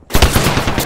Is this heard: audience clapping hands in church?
no